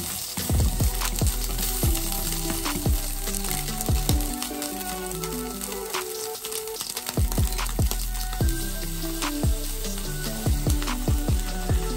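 Chicken and onion fry in a hot pan with a steady, close sizzle, under a background of music and occasional clinks and stirring.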